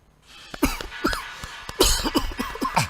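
A series of harsh, hacking coughs in quick bursts, close and fairly loud, with short pauses between fits.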